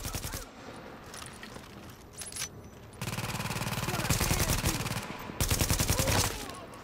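Rapid bursts of gunfire from a shooter game set during a rooftop comm relay mission, fairly loud and dense, with sustained volleys starting midway and continuing to the end; no voices are heard.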